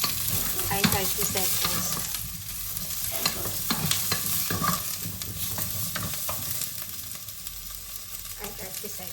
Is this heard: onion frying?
yes